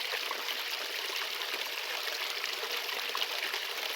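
Steady, faint flowing water from a creek in the North Carolina gold country, a continuous soft rush with no voices over it.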